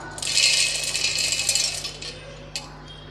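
Roasted, peeled peanuts pour into a mixer jar with a dry rattling rush that swells then thins out, ending with a sharp clink of the jar, close and fairly loud.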